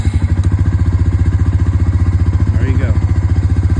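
A Honda 300 ATV engine running after a cold start on choke, loud and close with a fast, steady thumping idle pulse; a brief voice speaks over it near the end.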